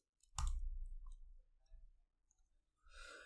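A single close, quiet mouse click, followed by faint small rustles and a soft burst of noise near the end.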